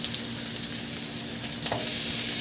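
Onions and tomatoes sautéing in a pan, a constant bright sizzle with a few sharp scrapes of stirring near the end, close and loud with no voices.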